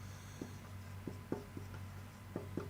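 Pen or marker strokes writing an algebra equation by hand on a board or paper, faint, with short scratchy taps spaced irregularly over a steady low hum, no talk.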